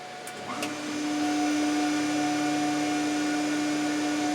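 A machine's hydraulic power unit starts with a short mechanical clunk, spools up within a second and then runs steadily as a loud, constant hum with a clear tonal whine, close and without any talking.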